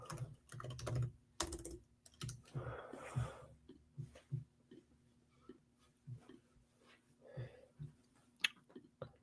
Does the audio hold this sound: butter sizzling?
no